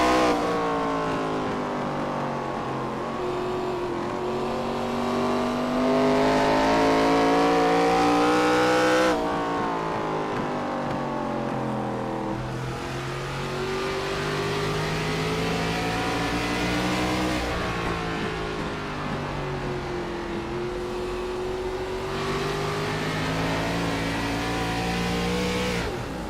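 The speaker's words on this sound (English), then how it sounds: "Lift and coast all the way through 1 and 2, back on the throttle." Race car engine at Five Flags Speedway, repeatedly lifting off and coasting, then coming back on the throttle, loud and sustained with rising and falling revs and no talk over it.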